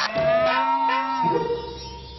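A cartoon cow gives a loud, drawn-out moo close up, a single tonal call that slides and fades out with no talk.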